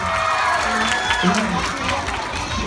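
A crowd of fans at CentralWorld mall cheers and shouts in a loud, continuous wash of voices, with clapping mixed in and some voices cutting through.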